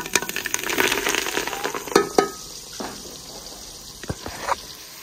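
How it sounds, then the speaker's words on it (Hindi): Chopped onion and fenugreek greens frying in hot oil, crackling and sizzling loudly at first, then settling into a softer hiss with occasional sharp pops and stirring clinks. "अभी प्याज और मेथा जो है ना मैंने ऐड कर दिया है, इसको अच्छे तरीके से ब्राउन करते हैं।"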